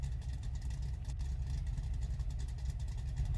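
A car engine in Car Mechanic Simulator rumbles steadily at close range as the vehicle is driven into the garage, a continuous low drone with slight revving and no speech.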